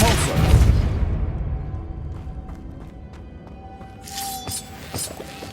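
A Depulso force spell cast in the Hogwarts Legacy game goes off as a loud, broad whooshing burst with a shattering edge, then fades into a low rumbling tail, followed by faint clicks and a brief shimmering chime.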